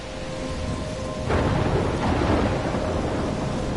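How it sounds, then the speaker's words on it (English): A thunderstorm in the video game Life is Strange: steady heavy rain hisses throughout, then a loud thunderclap breaks in and rumbles on beneath the downpour. "I'm trapped in a storm?"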